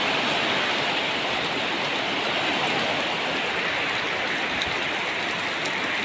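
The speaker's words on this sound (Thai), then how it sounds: "ตอนนี้ฝนตกแล้วนะครับ ฝนก็เทลงเทลงดีแล้วครับ" Rain pours down at a house in the countryside, a loud, dense, continuous roar of drops beating on surfaces nearby, with no talking.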